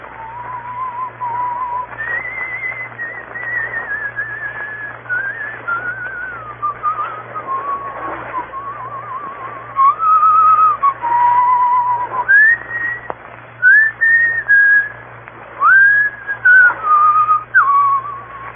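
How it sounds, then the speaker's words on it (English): A person whistles the tune Annie Laurie, a clear solo melody of sustained, gliding notes. It plays alone in a quiet old-time radio drama scene, with a faint steady hum underneath and livelier phrases toward the end. "He will pass the word Blackstone and whistle Annie Laurie."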